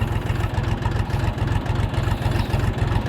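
A Kentavr 244SX-series Chinese mini tractor's diesel engine runs steadily nearby, a continuous low throbbing rumble with a regular pulse and no voices.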